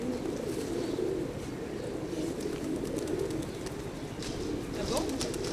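Low, soft cooing of several pigeons, continuous and murmuring, close by, with faint background noise.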